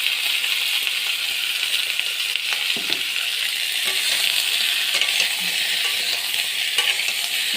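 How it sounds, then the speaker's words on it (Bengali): Eggplant frying in a pan, a steady broadband sizzle running the whole time with occasional faint clicks and scrapes of stirring, no voices. "দিয়ে বেগুনটা আমি ভালো করে নেড়ে নেব, মানে হালকা হালকা একটু ভেজে নেব আর কি।"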